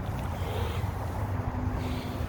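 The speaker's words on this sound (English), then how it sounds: "It's very windy today" Gusty wind blows steadily outdoors beside a house decorated for Christmas, a continuous broadband rush with low rumbling buffeting on the microphone and no talking.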